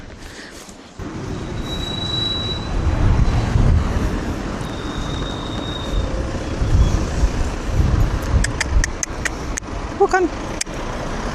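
Busy road traffic rolls past a horse rider in a steady, loud rumble of passing vehicles, with occasional brighter squeaks, while a rider speaks briefly.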